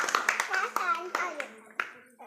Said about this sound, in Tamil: லாவணியை கைத்தட்டுங்களா